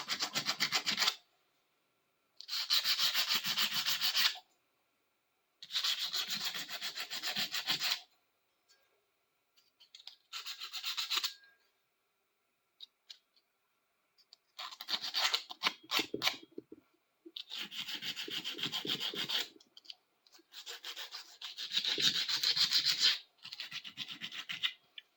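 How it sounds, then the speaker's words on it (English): Surface rust being rubbed off the bolt holes of a clamp vise during restoration: repeated bursts of close, scratchy rubbing strokes with short pauses between them, no voices. "I'll get that little touch of surface rust off those bolt holes."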